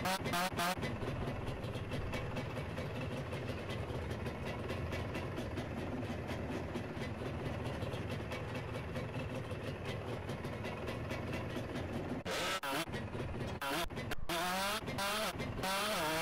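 A Yamaha Calimatic 175 motorcycle engine idles in GTA as a loud, steady mechanical drone throughout, with a few brief choppy bursts near the end.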